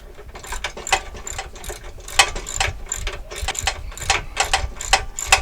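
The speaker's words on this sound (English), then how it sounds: "First we're going to hand tighten them, and then we'll use a socket wrench to get them nice and snug." A socket wrench ratchets in quick, steady bursts of clicking while tightening the mounting nuts of a WARN winch on a Jeep JLU Rubicon bumper, close up and fairly loud with no talking.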